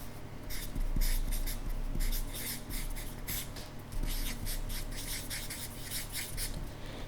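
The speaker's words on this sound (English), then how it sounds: "I'm just going to erase it, remove that part." Repeated brisk rubbing strokes of writing being erased from a board, a close, rhythmic swishing that continues throughout over a low background hum.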